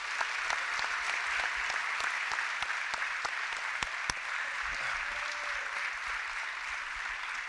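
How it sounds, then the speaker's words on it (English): Audience applause for scholarship students at a school awards assembly, a sustained dense clapping with scattered sharp individual claps, steady and moderately distant, with no talking over it. "if we could give these nice kids a round of applause"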